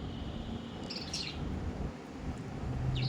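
Small sparrows chirp in short, bright bursts against a steady hum of background noise, a couple of quick calls rising briefly above the low ambient rumble.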